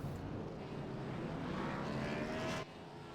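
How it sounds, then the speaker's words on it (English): A stock-car-style racing engine in the iRacing sim during a Cup Series race at Las Vegas drones steadily at a sustained pitch, faint and distant-sounding, then drops off abruptly near the end. "Go ahead and crank it up so we can listen to that sweet engine purr."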